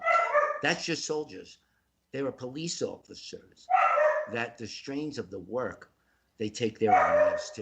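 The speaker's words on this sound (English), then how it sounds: "That's my dog. Pay no attention to the dog making sounds." A pet dog barks and whimpers faintly in the background, mostly buried beneath someone talking at length close to the microphone.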